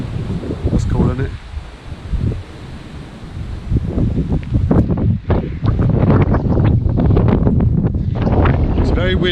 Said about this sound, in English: It's very windy, so you might not be able to hear me.